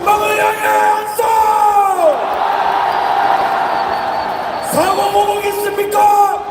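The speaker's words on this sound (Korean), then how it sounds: "전방을 향해 함성!" A loud mass shout rises from an outdoor crowd at a Gwangju anti-impeachment rally, swelling between a speaker's amplified calls and fading as the speaker resumes.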